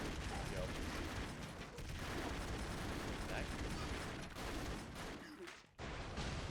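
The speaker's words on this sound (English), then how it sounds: "Those explosions get hectic really quickly" Dense, continuous explosions and gunfire roar through a hectic Broforce video game battle, loud and overlapping throughout with barely any pause.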